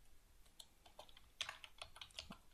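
Quiet typing on a computer keyboard, a quick irregular run of soft key clicks, close but faint.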